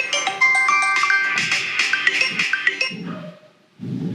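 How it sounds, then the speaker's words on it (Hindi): A bright electronic phone ringtone plays a repeating melody loudly, then cuts off as a brief burst of noise follows. "ले आ गया कॉल आशु भाई का।"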